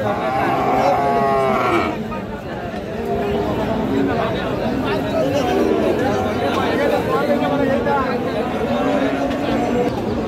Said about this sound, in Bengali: খুবই চমৎকার একটা সার বাছুর